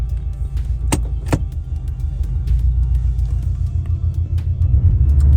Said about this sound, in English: I'm going to drive this car for a mile or two to warm it up to temperature